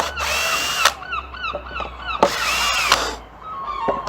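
A power drill drives screws into a guitar body being prepared for veneer, giving close, loud whirring bursts in short repeated runs with rising and falling pitch and brief pauses between them.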